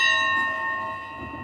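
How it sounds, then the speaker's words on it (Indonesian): A temple bell rings out once, its bright, sustained metallic tone with layered overtones hanging in the air and slowly fading, with no voices present. "siapa saja yang berdoa di lonceng itu dan membunyikannya"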